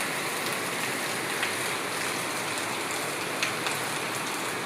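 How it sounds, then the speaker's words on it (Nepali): Steady heavy village rain hammers down, a dense uniform roar of falling drops with a few brighter splatters close by, no one speaking. "कस्तो पानी आइदिरहेको छ भाइ"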